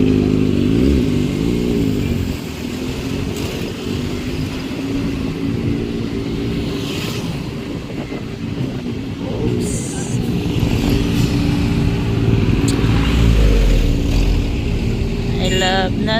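A motorcycle engine drones steadily throughout, riding along a road toward a bridge in the Philippines, with a low rumble and some clatter while people talk over it.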